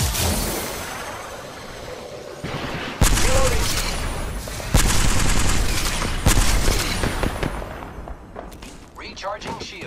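Gunfire in the space shooter game Everspace, loud bursts of rapid shots and thumping impacts arriving in several waves, and a voice speaking between them.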